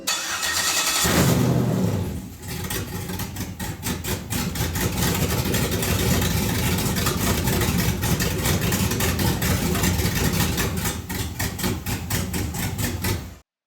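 A Jeep with an LS swap engine, a used motor that cost $900, cranks for about a second and then catches, settling into a loud, steady, rumbling run close by.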